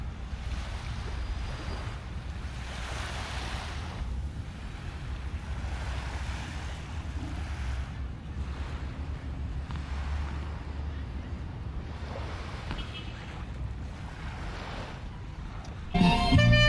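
Ocean waves wash onto a beach in Pattaya in a slow, steady surge under wind noise, with faint voices in the background and a louder gust buffeting the microphone at the end.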